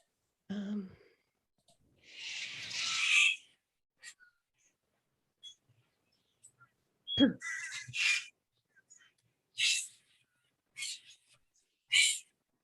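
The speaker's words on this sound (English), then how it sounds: "there were bird sounds resonating" Bird calls from an artwork soundtrack, with common birds among trees, come as a few separate harsh calls spaced apart by quiet gaps. They are fairly faint, with a soft breathy rush near the start.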